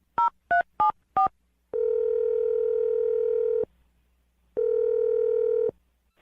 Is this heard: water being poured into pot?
no